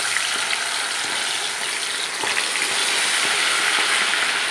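Quail dropped one at a time into hot oil for a Kerala-style kada fry, giving a loud continuous sizzle with faint bubbling and crackle throughout.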